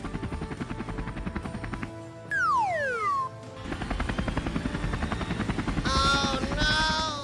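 Cartoon helicopter in an animated show, its rotor chopping in a fast steady pulse that drops out briefly for a falling whistle-like sweep, then comes back with high tonal cartoon effects over the top.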